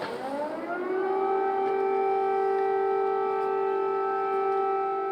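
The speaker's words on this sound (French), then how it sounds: "Il y a bien des sirènes presque quotidiennes qui font état des attaques de drones ou de missiles russes." An air raid siren in Ukraine, warning of drone or missile attacks, winds up and then holds a steady, loud wailing tone, with no voices over it.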